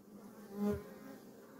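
Wild bees buzzing at a propolis-sealed hive during a rescue, a faint steady drone with one brief louder pass of a bee close by midway, no talking.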